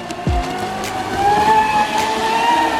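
High-pitched whine of a small brushless motor on a large Pro Boat 6S RC speedboat holding steady at full speed as it passes through water, close and loud, over a constant rushing hiss.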